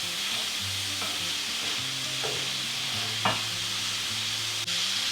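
Taco meat browning in a pan gives a steady, soft sizzle with occasional scraping stirs, close and quiet, with no one talking.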